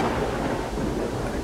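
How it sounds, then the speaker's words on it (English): Steady rain with rumbling thunder in the Golden Sun video game, a dense, even wash of noise that fills the whole moment without pause or voices. "Ooh, it's raining!"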